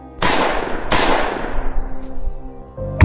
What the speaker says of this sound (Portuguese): Eu disparei 2 tiros para o alto.